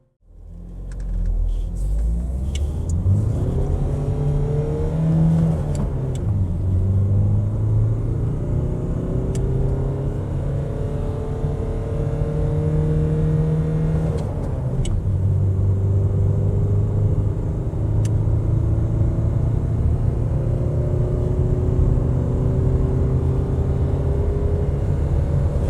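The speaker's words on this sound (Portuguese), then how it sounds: "é só para a gente perceber se tem algum detalhe a mais, algum ruído a mais de aceleração" A Fiat Scudo turbo diesel cargo van engine revs up repeatedly, with a loud, close rumble rising in pitch through several acceleration runs and gear changes, steady and continuous.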